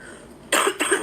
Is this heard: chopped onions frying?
no